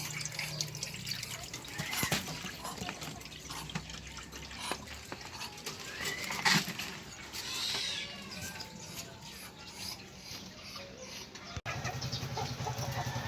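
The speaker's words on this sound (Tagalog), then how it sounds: "kargahan na natin ng tubig" Water trickles and splashes into a chicken coop water container, with chickens clucking around it and a voice talking now and then.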